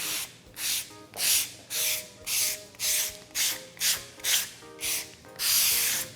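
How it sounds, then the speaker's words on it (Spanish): Sandpaper rubs back and forth over a wooden Christmas tray in steady, rhythmic strokes, about ten close, scratchy passes, with the last one longer than the rest. No voices are heard. "y empezamos a lijar, principalmente pues haciendo énfasis en esa sección, y en esta parte solamente hacemos una pasada suave"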